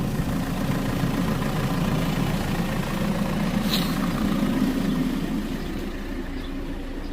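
A car engine sits idling after running hot for a long stretch, a steady low rumble that holds even and constant, with a brief higher hiss partway through.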